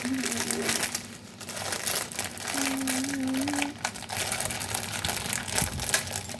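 A food package, likely pasta, is torn and opened with sustained crinkling and crumpling of plastic close by, while a person talks over it.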